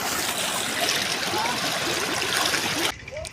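Steady water rushing and trickling over a stone waterfall, a dense continuous wash heard close up that cuts off abruptly near the end.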